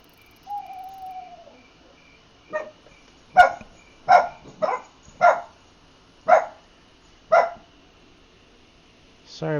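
Several dogs bark in sharp separate bursts near a bass fishing spot at Silver Springs, about six loud barks spaced roughly a second apart, with a faint whistle-like call early on.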